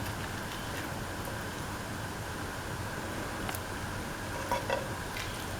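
Omelette pieces are gently stirred into a coconut milk stew, a soft, steady simmering hiss with a few faint, scattered clinks of the spoon.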